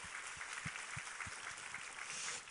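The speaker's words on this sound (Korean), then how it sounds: "우리 하나님께 감사와 영광의 박수 올려드리겠습니다" A church congregation claps together after a Scripture reading in a sermon service, a steady, even wash of applause that sounds distant and fairly soft, with no voices over it.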